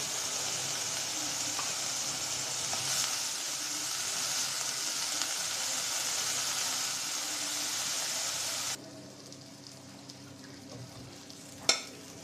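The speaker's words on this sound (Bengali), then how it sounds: "সরিষা ফুল ভাজা হয়ে গেছে" Mustard flowers fry in a pan with a steady, moderate sizzle for about nine seconds before it abruptly drops to quiet, followed by one sharp knock near the end.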